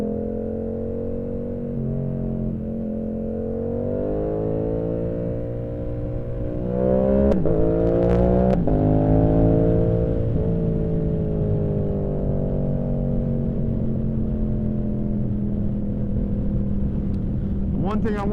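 A Yamaha R7 sport bike accelerates close by, its engine note climbing through a gear change into a loud, sustained high-revving drone that continues steadily to the end.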